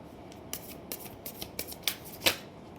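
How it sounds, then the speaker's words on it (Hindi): Playing cards are shuffled by hand in a series of quick, crisp riffles and snaps, about eight short bursts over a few seconds. The sound is close and moderately loud against a quiet room, with no talking. "जब तक मैं कार्ड शफल कर रही हूँ"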